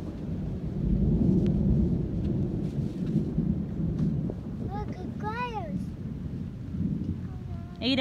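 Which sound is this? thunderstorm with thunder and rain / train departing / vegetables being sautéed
thunderstorm with thunder and rain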